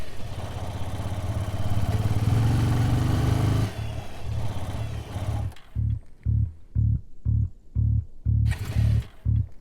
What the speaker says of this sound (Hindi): पेट्रोल तो है, फिर भी बाइक बंद हो गई।